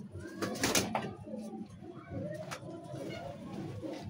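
Pigeons coo in a loft as their cages are opened, a steady low murmur of calls with a few sharper flutters and knocks near the start.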